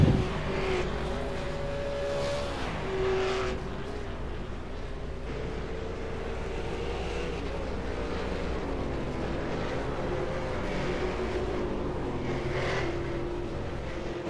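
V8 Supercars race at Mosport in the iRacing sim, giving a steady, droning engine roar that holds at an even level, with slight swells as cars pass and no audible talk.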